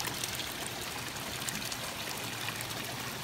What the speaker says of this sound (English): And I also have got a jet in the middle of it. You see there, and that's running all the time.